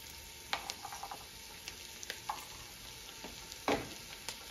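Four or five cloves of chopped garlic sizzling softly in a pan for Hungarian goulash, with scattered stirring clicks and scrapes over a steady low frying hiss.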